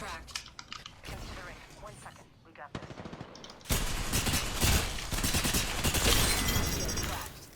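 Gunfire crackles in Apex Legends, first in scattered bursts and then as dense, sustained automatic fire, while a player talks over the shooting.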